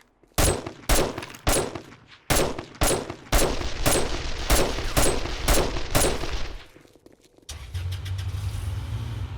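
A string of loud, sharp gunshots in 7 Days to Die with the Rebirth mod, about a dozen closely spaced single shots fired in a steady rhythm, then a pause and a low mechanical hum as the firing stops.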